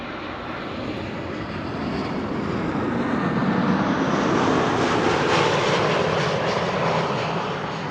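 A Swiss airliner at Amsterdam Schiphol Airport roars steadily and loudly, its engine noise swelling slightly as it passes, with no talk over it.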